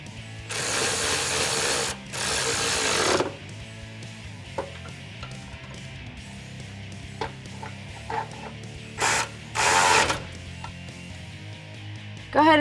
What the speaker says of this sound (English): grab your 13mm socket and tighten them down